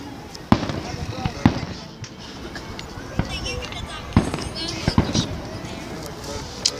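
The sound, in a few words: fireworks show exploding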